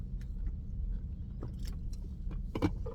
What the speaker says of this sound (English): like the keys hitting the dashboard, stuff like that